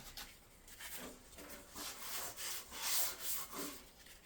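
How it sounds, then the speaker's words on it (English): A Jaguar XKR body panel is lightly scuffed by hand, giving a series of rasping rub strokes in a steady back-and-forth rhythm that grow louder toward the end, close up with no talking. "we only need to lightly scuff this"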